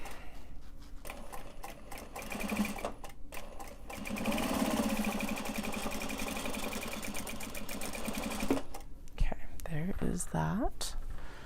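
A home sewing machine winds white thread onto a bobbin, a steady mid-pitched whirring hum running continuously for several seconds at close range, with brief starts and stops and faint background noise around it.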